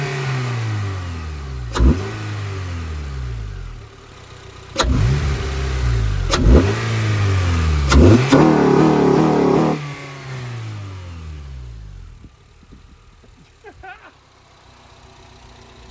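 A 2013 Honda Civic Si engine with a freshly cleaned intake revs hard several times, each sharp rise falling back to idle, then a longer held rev before settling, loud and close.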